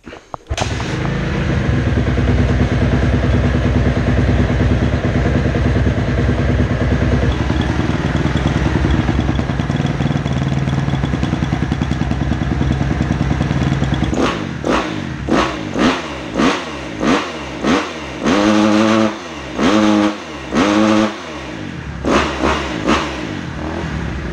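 A 2010 Kawasaki KX 250F four-stroke dirt bike being started and warmed up while a fault is being checked: the engine catches and idles loudly and steadily up close, then gets a series of sharp, rhythmic throttle blips.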